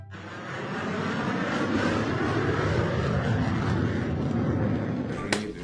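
An airplane flies overhead during a football match, a steady broad engine roar that swells in and holds loud for several seconds.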